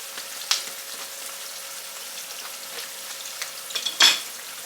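Squash and zucchini fry in a pan with a soft, steady sizzle, and a couple of light clinks of a utensil are heard near the end.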